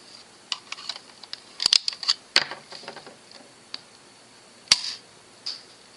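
A Nerf Scout blaster fitted with a brass barrel fires a Stefan dart, heard as a few sharp, faint clicks and snaps with a louder pop near the end, against quiet room noise.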